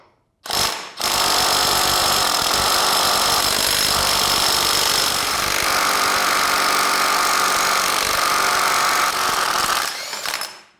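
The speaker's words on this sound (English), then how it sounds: "The best way how you can do it is to use an impact wrench with a 1/7/8 inch socket." A pneumatic impact wrench with a 1-7/8 inch socket hammers at a large nut on a Harley-Davidson Sportster during a chain conversion, a loud continuous rattling buzz lasting about ten seconds with a brief start and stop.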